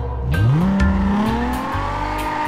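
Car engine in GTA San Andreas revving hard with a loud rising pitch sweep, joined by screeching tire squeal as the vehicle accelerates and slides; loud and close throughout, no talking.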